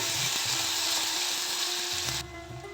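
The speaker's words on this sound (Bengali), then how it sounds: "আদা কাঁচা লঙ্কা টমেটো আর পেস্টটা প্রথমে দেবো দিয়েটা তেল ছাড়া পর্যন্ত নেড়ে নেব" Ginger, green chilli and tomato paste frying in hot oil and being stirred, a close, dense sizzle with spoon scrapes that cuts off abruptly near the end.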